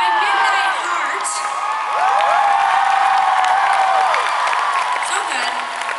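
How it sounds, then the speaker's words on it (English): A concert crowd at the Hammerstein Ballroom applauds and cheers for a band, with sustained loud clapping, whoops and shouts, and a voice over a PA at times. "Would you please give a huge round of applause?"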